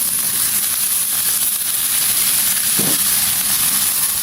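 Beef trimmings fry with shallots and leeks in a stainless wok, a loud, steady sizzling hiss that continues close up, with a short clank partway through.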